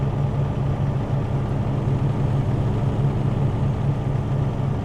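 Truck engine in American Truck Simulator, a steady low, rumbling drone that holds even and loud without pauses or talk.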